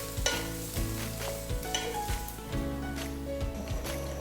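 Steady sizzling of tofu frying in a hot pan for pad Thai, with occasional stirring scrapes and light clinks, fairly close and continuous.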